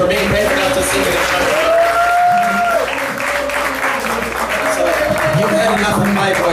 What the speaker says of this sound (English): So give a round of applause for her for being brave enough to sing it.